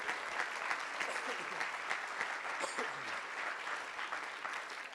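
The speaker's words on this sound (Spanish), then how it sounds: "Denle un aplauso al Rey, hermano." A church congregation claps together during a sermon at a Spanish-speaking evangelical service, a continuous moderate wash of applause heard alone at a middling distance.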